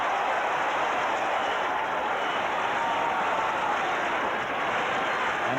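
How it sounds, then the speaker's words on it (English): A stadium crowd at a 1984 Australian rules football match between Glenelg and South roars and applauds after a goal, a dense, sustained wash of cheering and clapping at steady loudness throughout. "And the Bay crowd loves it"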